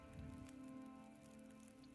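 Rain falling in The Long Dark, a faint, steady patter of drops on a surface that continues evenly for two seconds beneath a low humming tone, with no one talking.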